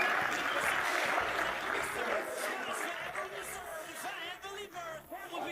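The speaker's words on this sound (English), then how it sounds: "Ladies and gentlemen, big round of applause for Martin Minarovic for leaving his heart on this table" A crowd at a darts match applauds and cheers in a dense, steady wash of clapping that slowly thins toward the end, with voices mixed in.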